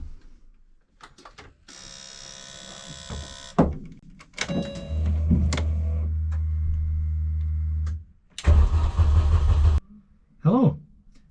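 A Mini Challenge race car engine cranks and starts among knocks and clunks, then holds a loud, steady low idle for several seconds before a harsh burst of revving and a final short blip.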